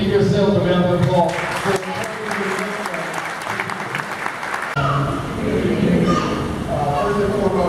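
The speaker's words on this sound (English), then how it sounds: "Give yourselves a round of applause." Applause for a Trenton police explorer graduation ceremony, a loud sustained crowd clapping with voices and cheers mixed in, continuing steadily throughout.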